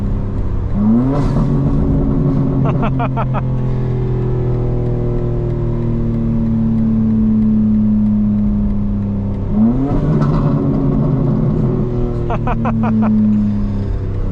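A 2025 BMW M4 Competition xDrive engine revs hard, climbing through gears under acceleration with sharp upshift crackles, a loud, sustained drone that repeats in two full pulls.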